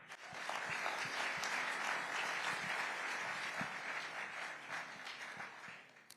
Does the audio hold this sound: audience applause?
yes